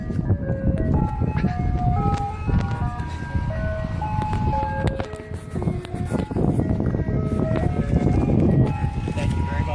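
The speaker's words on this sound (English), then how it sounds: "Ice cream truck." An ice cream truck plays its chiming jingle melody loud and steady, with engine rumble and background noise underneath throughout.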